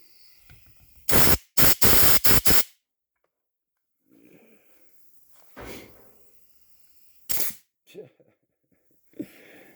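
Compressed air blasting debris out of a Brembo brake caliper with a stripped bleeder screw: a cluster of four loud hissing bursts near the start, then a long gap broken by two more sharp blasts and some quieter rustling and handling noise.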